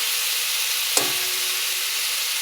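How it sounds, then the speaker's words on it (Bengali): Onion and whole cumin frying in a pan, a steady loud hiss throughout with a single sharp knock of a utensil near the start. "পেঁয়াজ আর গোটা জিরেটা ভাজছি"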